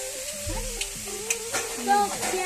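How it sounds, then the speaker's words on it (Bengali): Chicken fries in a home kitchen pan, a close, lively sizzle broken by stirring scrapes and clatter, with a brief fainter voice in the background. "তো এইদিকে আমার চিকেনটা ফ্রাই হয়ে যাও।"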